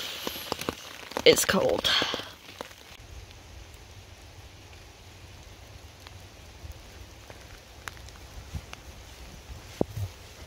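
Rain patters steadily on a tent footprint held overhead as a rain shield while hiking the Appalachian Trail, a soft continuous hiss with a brief voice near the start.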